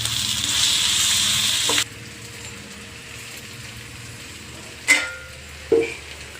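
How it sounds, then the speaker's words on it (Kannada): Grated coconut and spices fry in hot oil for an egg and chicken sambar, a loud close sizzle that cuts off suddenly, followed by two sharp clanks of a utensil against the pan, no voices. "ನಾನು ತೆಂಗಿನಕಾಯಿನೂ ಕೂಡ ಎಣ್ಣೆಗೆ ಹಾಕ್ಕೊಬಿಡ್ತೀನಿ ಇನ್ನೆಲ್ಲ ಸೇರಿ ಚೆನ್ನಾಗಿ ಫ್ರೈ ಮಾಡ್ಕೋಬೇಕು"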